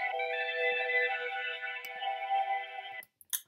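Bounced MP3 playback of a hip-hop beat with bells, sustained tonal melodic layers running steadily for about three seconds before cutting off abruptly, followed by a brief scrape of noise.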